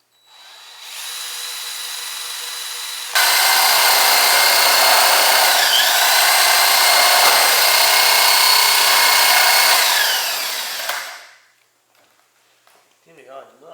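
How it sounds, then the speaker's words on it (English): A power drill whines steadily as it bores a pilot hole into pallet wood, rising in intensity partway through, then stops abruptly leaving near silence. "So I'm going to try drilling another pilot hole in the center of this"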